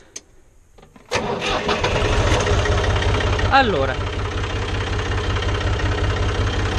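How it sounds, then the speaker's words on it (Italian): A Fiat 500 Special tractor's diesel engine starts abruptly with a rough catch, then settles into a steady, loud idle that throbs evenly; someone speaks briefly before it starts. "adesso accendo il trattore e vediamo il funzionamento del cambio"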